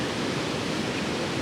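Constant rushing water pouring through the leaky gates of Woolhampton Lock on the Kennet and Avon canal, a dense steady torrent with no pauses.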